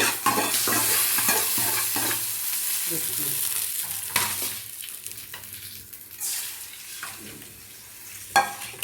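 Hot tempering with chilli powder hits the dish and sizzles with a loud, crackling hiss. Scraping stirring bursts come and go as the frying settles, and no one speaks.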